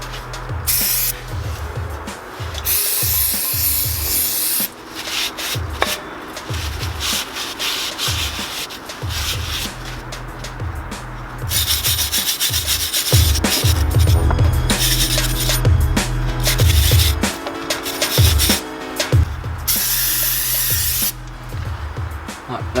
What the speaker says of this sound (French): Là on va passer un coup de nettoyant frein pour essayer d'enlever la graisse, un coup de brosse métallique ou de toile émery